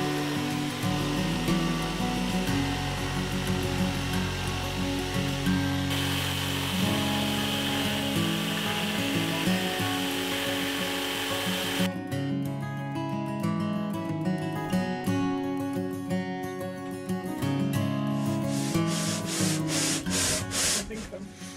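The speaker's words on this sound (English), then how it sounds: "glorious, glorious sanding" Steady, continuous sanding on teak veneer panels, a rough rasping drone that shifts in texture partway through, with faint intermittent scraping strokes toward the end.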